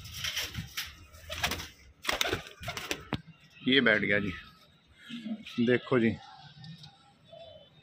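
Pigeons of a pure white-eyed breed at a Delhi bird sale, with several short bursts of low, throaty cooing close by, set between stretches of someone talking and a few wing flutters.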